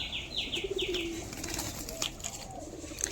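Domestic pigeons, Madras and Giribaz breeds kept for sale, coo in a close, soft rolling series of low murmurs, with several brief chirping calls and some rustling around them.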